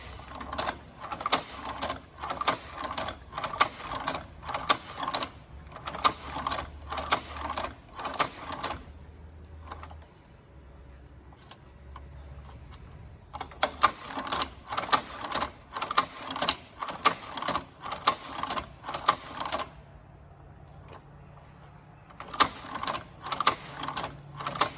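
Cowboy Outlaw leather sewing machine stitching after its thread tension is tightened: rapid, rhythmic mechanical clatter in three bursts of several seconds each, broken by quiet gaps, close and fairly loud.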